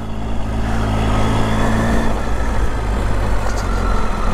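A vehicle on tyres that dig into soft sand in the Grampians labours along with a loud, close, steady engine drone and rumble; no voices are heard.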